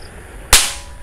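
A tank firecracker (mercon tank) goes off in a wok with a single sharp, loud crack, then a brief decaying rattle.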